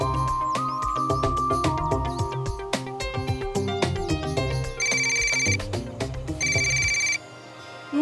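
A mobile phone rings with an incoming call, playing a melodic ringtone of repeating electronic tones for several seconds before cutting off, with no voices over it.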